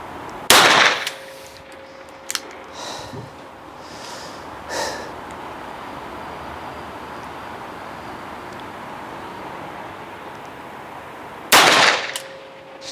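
Revolver gunshots at an outdoor shooting range: two loud, sharp reports about eleven seconds apart, with a few fainter pops and clicks between them over steady background hiss.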